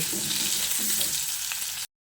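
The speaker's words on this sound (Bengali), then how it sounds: "লো টু মিডিয়াম ফ্লেমে আলুটাকে বেশ লালচে করে ভেজে নেব।" Steady sizzling and crackling of potatoes frying in oil over low to medium flame, close and continuous, with faint stirring scrapes, cutting off abruptly at the end.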